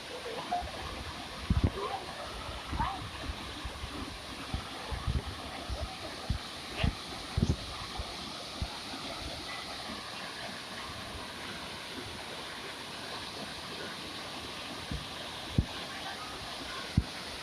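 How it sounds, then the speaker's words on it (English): A large waterfall in Asia, heard as a constant broad roar of falling water filling the scene, with scattered louder splashes and some faint talk nearby. "That is an impressive waterfall."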